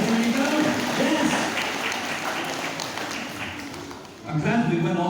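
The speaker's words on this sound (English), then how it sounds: "Give a nice big clap down there." Audience at a sheep shearing show applauds, a steady mass of clapping heard under someone talking over a loudspeaker, dipping briefly before swelling again.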